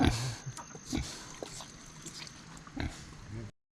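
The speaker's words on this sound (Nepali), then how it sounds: "ए सुँगुरले खाएको नि" A pig eats greens with its snout in water at a Limbu feast, giving wet irregular snuffling and short grunts, fairly close, interspersed with brief voices and background sounds.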